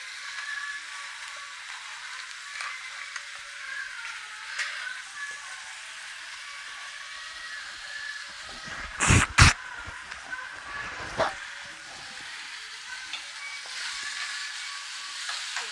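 A ridge gourd and prawn curry fries in a pan with a faint steady sizzle and hiss, and a brief louder scrape near the middle as it is stirred.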